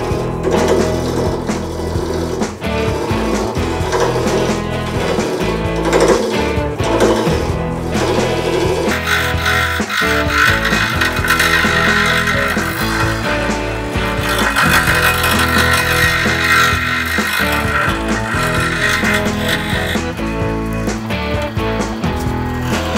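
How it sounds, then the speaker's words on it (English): A powered sander runs steadily against the top of a green wood and resin dragon egg, a loud continuous motor whine and grinding that shifts in pitch midway and carries on without any voices. "I have to sand this top down. So I'm going to take this, put it on the sander"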